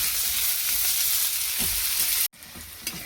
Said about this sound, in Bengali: পেঁয়াজটা ভালো করে ভাজা হয়ে গেছে